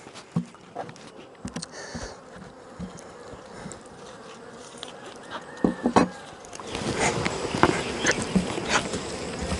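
Honey bees at a hive as two colonies are combined, a dense close buzzing drone that swells louder toward the end, with occasional handling knocks and no talk.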